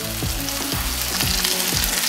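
A fat burger patty frying on a hot griddle, a loud dense sizzle with steady crackle throughout, heard alone without voices.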